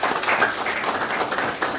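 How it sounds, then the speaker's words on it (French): An audience at a public university presentation in Haiti applauds an engineer's team: a dense, steady patter of many hands clapping close by, holding at an even level for about two seconds. "je demanderai justement au public d'applaudir l'équipe de l'ingénieur"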